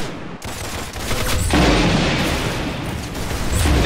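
Rapid gunfire from the video game Arsenal, dense bursts of shots running continuously and loudly throughout, with a brief gap near the start.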